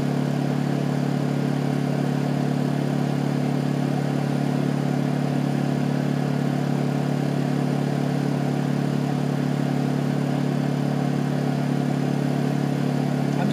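A Honda EU2000 portable generator engine runs steadily with a constant, even drone and faint mechanical clatter, close by and uninterrupted, left running on the last fuel in its carburetor bowl.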